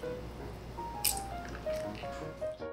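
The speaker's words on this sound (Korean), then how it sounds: "양배추가 다 익으면 찬물에 헹궈 물기를 짜준 다음" Rinsed boiled cabbage is squeezed by hand to press out water, giving brief close squishes and a few wet drips.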